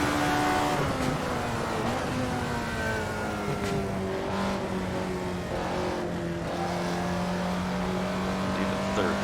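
An Alfa Romeo 33 Stradale's engine drones steadily in Assetto Corsa, a loud sustained tone holding pitch as the car runs through a gear down the front straight, with faint speech in the background.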